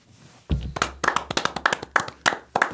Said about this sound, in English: You clapped 5 times.